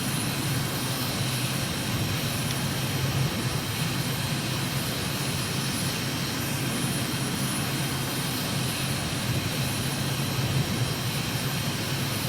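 Jet aircraft flying low and fast at about 449 knots over Norwegian fjord fields near Stavanger in a flight simulator game, a steady broadband engine roar without pauses and no talking.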